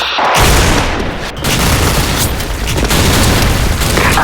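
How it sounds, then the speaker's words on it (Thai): A heavy, booming grenade explosion in a video game fills the clip, loud and roaring, with a brief dip before the rumbling blast swells again. "คว้างระเบิดไปแล้ว"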